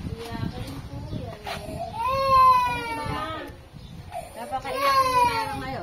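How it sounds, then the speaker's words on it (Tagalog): A baby cries in rising, wavering wails, two long bursts close by with whimpers between them, while adults talk nearby in a farm household. "Kaya pala may naririnig ako umiiyak dito."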